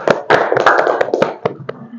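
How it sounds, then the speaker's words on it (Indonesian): A small group of students in a classroom gives a brief, uneven round of applause, with scattered close claps over a couple of seconds and a few fading near the end. "Kita berikan aplaus."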